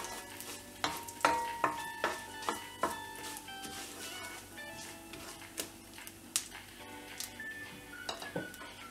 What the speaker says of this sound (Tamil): இதல கடுகு சீரகம் கறிவேப்பிலை இது எல்லாத்தையும் ஆட் பண்ணிடலாம் ஆட் பண்ணிட்டு இத ஃப்ரை பண்ணிடலாம்